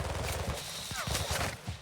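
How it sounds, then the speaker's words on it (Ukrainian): Gunfire during a Call of Duty Modern Warfare II DMZ match, a rapid burst of several sharp shots and short automatic bursts, fairly close, with a whooshing sweep in the middle and no speech. "Там вже десь стріляють."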